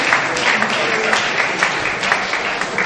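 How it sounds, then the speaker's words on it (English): An audience at a Nigerian public gathering bursts into dense, loud applause, continuous close clapping with a few sharper individual claps standing out. "A round of applause, please."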